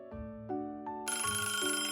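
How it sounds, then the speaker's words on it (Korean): A telephone ringtone rings alone in a quiet room, three short tonal rings followed by a fuller melodic burst, clear and fairly soft. "전화가 왔습니다"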